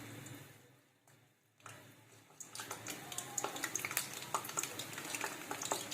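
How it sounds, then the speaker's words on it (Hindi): Vegetable rolls frying in hot oil, a soft bubbling sizzle that starts faint and builds into a steady, crackling fry with small pops, heard alone without talk. "रोल फ्राई करने लगी हूँ।"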